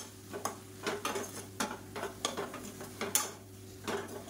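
Chilli powder masala stirred in hot oil for a Sunday non-veg dish: a spoon scrapes and clinks against the pan in short repeated strokes over a steady low hum, with a faint sizzle beneath and no voices.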